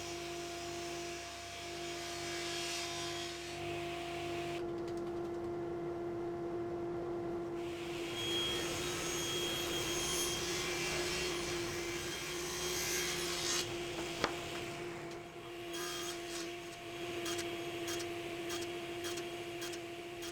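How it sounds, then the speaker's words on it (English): Small walnut table buttons are sanded with a steady, abrasive rasping of wood, continuous and close, over a constant mechanical hum, with short breaks and shifts in texture as the work goes on. "After giving all those buttons a sand"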